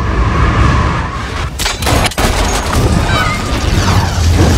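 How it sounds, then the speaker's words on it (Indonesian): Gunfire shootout from the film Wanted (2008), loud booming shots and crashes over a heavy action soundtrack, with a narrator's voice in the background. "terjadilah aksi baku tembak di antara mereka"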